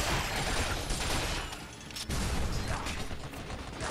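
Dense, sustained assault rifle fire from the video game Binary Domain, loud and continuous with a brief pause midway before the rapid bursts resume, with mechanical clatter mixed in.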